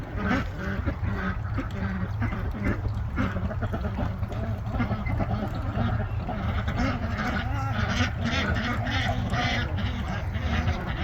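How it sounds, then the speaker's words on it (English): A flock of ducks quacking and honking nonstop around a compost pile on a homestead, loud, dense and close, layered with some background noise and no clear speech. "The ducks are making a ton of noise."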